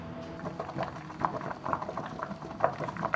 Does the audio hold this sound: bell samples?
no